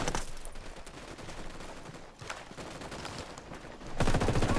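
Rapid bursts of gunfire from a box-magazine gun in the video game Ghost Recon Wildlands, loud and dense, running almost continuously with a brief pause and a heavier burst at the end.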